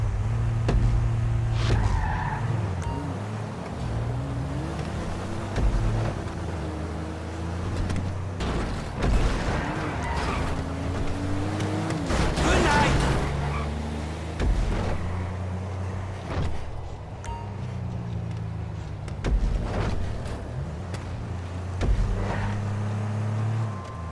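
Cars racing in Grand Theft Auto V, engines roaring close with repeated tire skids and squeals, revs rising and falling in steady loud passes throughout.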